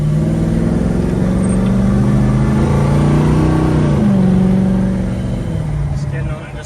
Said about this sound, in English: taking our 69 Chevelle out here for a quick test drive